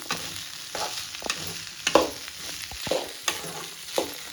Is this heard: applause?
no